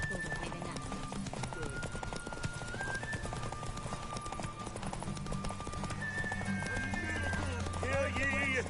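Roach the horse galloping in The Witcher 3, with rapid, continuous hoofbeats running steadily under game music, while voices speak over the ride near the end.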